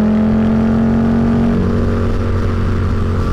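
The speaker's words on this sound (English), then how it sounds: "the intake sound is perfect. So much less mechanical, so much less rattly than a Sportster" Custom Harley-Davidson V-Rod motorcycle engine running loud and close, a steady smooth drone with a pitch that settles partway through, with no talk.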